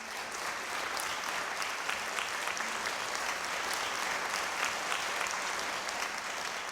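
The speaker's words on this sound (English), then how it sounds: "Can we have another big round of applause for these amazing artists?" A large audience at an evening fan event applauds the performing artists, producing a dense, steady wall of clapping that holds at an even level from start to finish, with no voices standing out.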